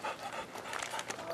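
A hound dog pants rapidly and steadily up close, with breathy rhythmic huffs and a faint whimper.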